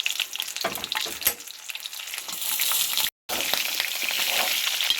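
Steady crackling sizzle of chicken frying in oil in a pan, loud and close, with occasional stirring scrapes and a brief cut in the middle.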